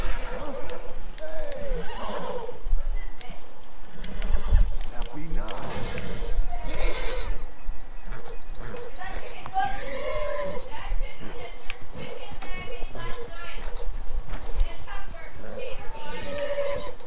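A horse in Red Dead Redemption 2 neighs and whinnies repeatedly amid clip-clopping hooves and other game sounds, while a person talks over much of it.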